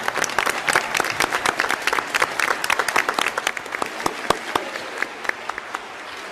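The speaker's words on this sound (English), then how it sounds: "Another round of applause." At a school board of education meeting, an audience applauds an outstanding accomplishment: a full room of steady clapping that thins toward the end into a few scattered, sharper individual claps.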